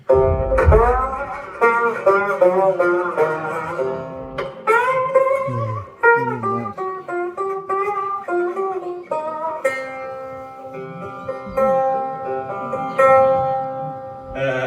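An unamplified National Steel resonator guitar plays a bright, metallic melodic passage with ringing plucked notes and slides, close and clear with no talking.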